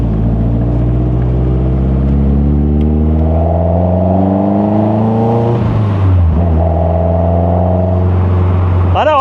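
Westfield Se NA R-T sports car engine rumbles steadily at close range, then the throttle is blipped with a rising rev that quickly drops back, under a loud continuous drone.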